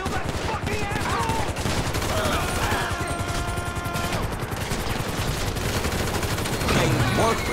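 Sustained automatic gunfire fills a Grand Theft Auto V street chase, dense rapid shots and machine-gun bursts running without pause, loud and close, with brief shouting mixed in.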